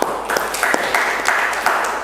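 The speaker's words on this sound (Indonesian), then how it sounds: "Tepuk tangan." A classroom of students gives brief, fairly faint applause for a classmate's answer, with scattered hand claps across about two seconds.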